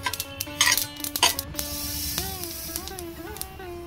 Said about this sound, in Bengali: এইভাবে ফুটতে শুরু করলে আমার বুঝতে হবে যে তিলটা হয়ে গেছে